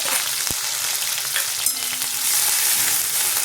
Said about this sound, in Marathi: तेल तापलं की आपल्याला टाकून घ्यायचं आहे जिरे, हिरवी मिरची आणि आलं